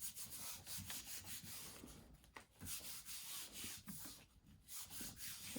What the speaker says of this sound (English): let's put this on and we'll give it a good rub.